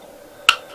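Cutters snip once through a piece of plastic, making a single sharp, close click in an otherwise quiet room.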